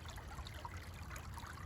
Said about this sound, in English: this space right here if you look here where this water is flowing and this beautiful burbling sound of the